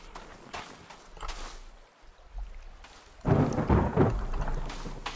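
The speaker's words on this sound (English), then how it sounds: "Of course it's raining." Rain hisses and thunder rumbles in The Forest video game, with soft scattered patter early and then a heavy, booming thunder roll that dominates the last two seconds, no voices present.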